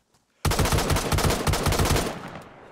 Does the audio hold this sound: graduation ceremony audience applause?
no